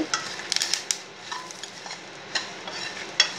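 Cumin seeds and salt dry-roast in a pan, with scattered spoon scrapes and light clinks against the metal, close up, over a soft background hiss.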